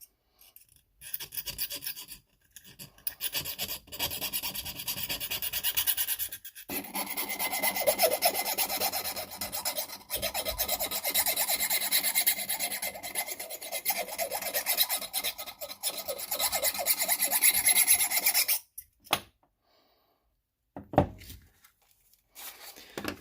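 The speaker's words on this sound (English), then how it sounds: "Diamond files are going to work best for this." Diamond file rasping a burr off the edge of a Spyderco folding knife, a steady run of close, scratchy back-and-forth strokes lasting most of the clip, then stopping and leaving a few light clicks.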